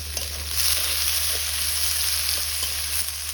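Potatoes frying with onion in a wok (kadai) on a stove, a bright, even hiss of sizzling oil under a low steady hum, close and continuous through the short stretch with no talking.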